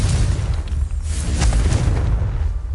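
A Confringo spell from the game Hogwarts Legacy goes off as a loud, rumbling boom that stays steady and dense across the whole short stretch, with no talking.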